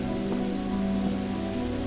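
Steady rain pours down in the horror video game Individualized Horror, a dense, continuous hiss of drops on a surface, moderately loud and unbroken, with no voices over it.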